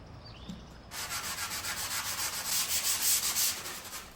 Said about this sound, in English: I'm sanding every part of this cedar chest with 150 and 180 grit sandpaper